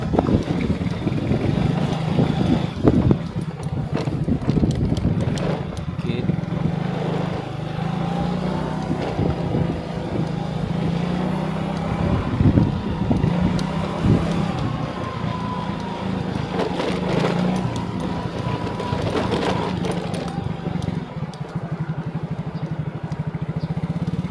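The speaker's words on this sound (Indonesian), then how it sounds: "Ini kita coba pakai motor dengan stabilisasi on, dengan jalanan cukup berbatu, bertanah seperti ini." A motorcycle engine drones steadily while riding over a rough, rocky dirt road, with bumps and rattles breaking through the continuous low hum up close.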